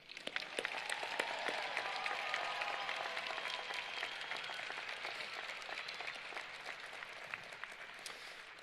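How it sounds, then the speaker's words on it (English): Audience applause at a high school graduation ceremony, a broad wash of crowd clapping rising quickly and sustained, heard at a distance and fairly faint, slowly tapering. "Please, ladies and gentlemen, give a round of applause for the IDEA staff."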